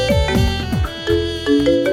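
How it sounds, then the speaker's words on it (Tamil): A mobile phone rings in a Tamil TV drama scene with a loud, melodic ringtone whose tones sweep and repeat steadily for two seconds. "மொபைல் ரிங் ஆகுது."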